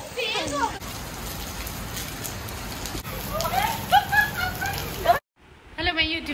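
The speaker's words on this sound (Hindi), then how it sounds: "बहुत तेज बारिश हो गई और हवा भी" Heavy rain pours steadily with gusting wind, a dense broadband hiss filling the scene, while voices talk over it and a brief dropout interrupts near the end.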